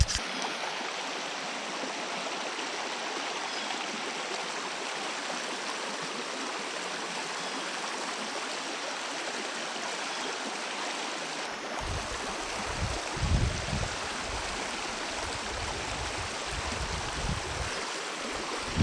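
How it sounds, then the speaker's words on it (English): A small creek pours steadily into a trout stream in Iowa, giving a continuous close rush of flowing water, with a few low thumps and bumps near the end. "it looks like there's another little creek or something that comes right in here"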